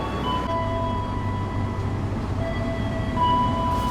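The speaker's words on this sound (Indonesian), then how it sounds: "Kereta api Gajah Wong masuk stasiun Cirebon." Gajah Wong train pulling into Cirebon station in Indonesia: a steady, loud rumble of rolling wagons and wheels with faint tonal squeals from the track, continuous throughout with no talk.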